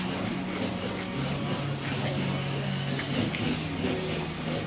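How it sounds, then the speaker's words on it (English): Bristle brush working varnish into the seams of wooden boat planking, a steady soft rubbing and swishing in repeated close strokes, with no talking. "I'm working the varnish into the seams."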